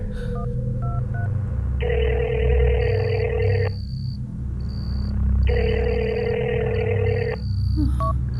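A phone call rings unanswered: a few short keypad beeps, then two long electronic ringback tones separated by a pause, over a low humming background.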